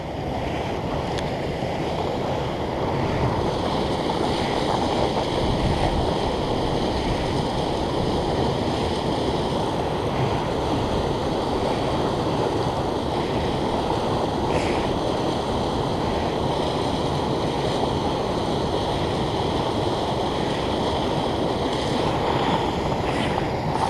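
Rushing river rapids pour steadily and loudly nearby, a continuous broadband roar of turbulent water running near a swimming hole.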